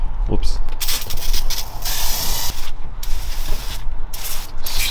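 Degreaser sprays in short hissing bursts onto the injector area of a car engine, close and loud, with a person talking nearby.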